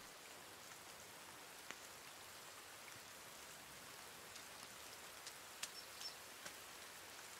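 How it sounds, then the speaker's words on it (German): Steady rain falls in the survival video game The Forest, a faint, even hiss with occasional soft drops. No one speaks over it. "Ah, geil, es regnet wieder."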